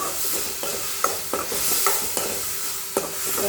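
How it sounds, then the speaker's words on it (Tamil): Ridge gourd sautés with chili powder in a hot pan, a constant close sizzle broken by regular scraping stirs of a spatula, several distinct strokes with no voices. "குழம்பு மிளகாய்த்தூள் போட்ட அப்புறம் நல்லா வதக்கணும்"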